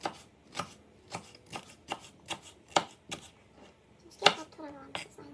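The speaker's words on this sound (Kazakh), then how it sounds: "Жіңішке қылып турап аламыз" A knife chops bell peppers into thin strips on a board, about a dozen crisp, evenly spaced cuts in a quick steady rhythm, close up with faint kitchen background.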